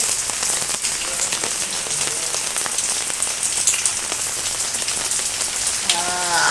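Steady rain falling, a loud, dense, close patter on surfaces throughout, with a faint voice rising briefly near the end.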